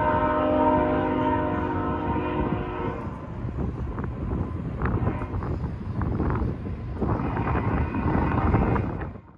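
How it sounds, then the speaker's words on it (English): A train passes near the desert ghost town of Amboy, California. A loud, sustained horn blast sounds for about three seconds, then the heavy rumble of rolling cars goes on with wind buffeting the microphone, and a second horn swells near the end. "they do provide a fantastic view of the trains rolling by"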